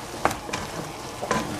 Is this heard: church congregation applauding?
no